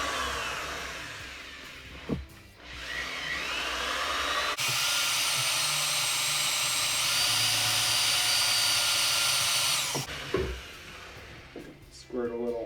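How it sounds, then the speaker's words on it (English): A drill bores a hole into a metal part for a jetski dolly, whining loudly and steadily for several seconds close by, with some shop noise and brief speech before and after. "So now you can see there's a perfect little indentation where we want to drill this thing."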